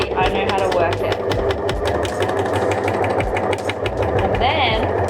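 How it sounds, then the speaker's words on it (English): Overlocker sewing machine cutting and stitching fabric with its large blade, a rapid rhythmic mechanical chatter running nearly throughout, close and loud, with people talking over it. "See, it's cutting the fabric off, this big blade."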